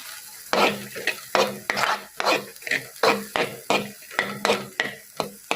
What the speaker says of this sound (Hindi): तो अब हम इन तमाम चीज़ों को अच्छे से मिक्स कर लेंगे